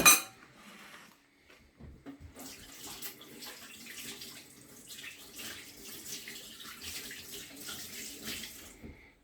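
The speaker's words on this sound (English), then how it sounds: "I am about to wash my hands" Tap water runs steadily into a kitchen sink as hands are washed while preparing Jamaican steamed fish, a continuous splashing stream with faint clinks of dishes beneath it.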